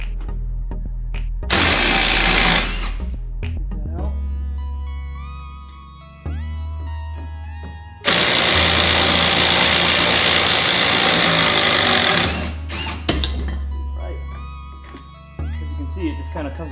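A power tool working on a caliper bracket bolt on the front brakes of a 2007 Chrysler 300, sounding in two loud, harsh bursts of a few seconds each, separated by quieter stretches with tonal background sound.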